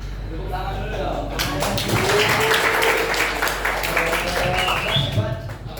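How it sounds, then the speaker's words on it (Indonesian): A high school class in Jakarta breaks into applause: a dense burst of clapping rises after a quiet start and holds steady to the end, with a voice speaking over it. "Tepuk tangan dulu dong."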